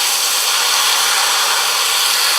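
Tap water runs in a strong, steady hiss over Mortgage Lifter tomato seeds being rinsed of their juice, an unbroken close rush of flowing water.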